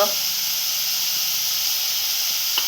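Asafoetida (hing) sizzles as it drops into hot oil in a pan, a steady bright hiss filling the whole moment, close and even in loudness.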